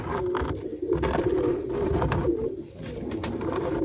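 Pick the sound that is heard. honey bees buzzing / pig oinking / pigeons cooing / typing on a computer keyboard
pigeons cooing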